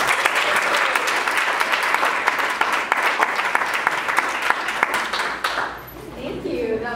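An audience at a community speaker series welcomes the speaker Mia with loud, sustained applause of many hands clapping together. It fades sharply near the end, then picks up briefly again.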